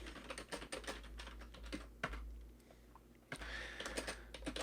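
Rapid typing on a computer keyboard while a program is written in Notepad, a steady close stream of light key clicks with a brief pause midway, no voices.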